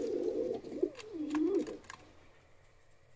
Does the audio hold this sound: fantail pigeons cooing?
yes